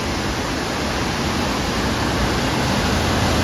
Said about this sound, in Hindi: ये देखिए एक ह्यूज वाटरफॉल है।